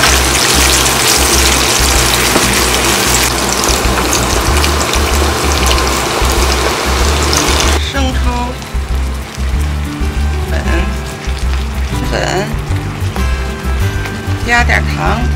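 Red pepper, garlic and sausage sizzle loudly in hot salad oil, a dense crackling hiss that stays steady, then eases into lighter spitting and popping with low hum beneath.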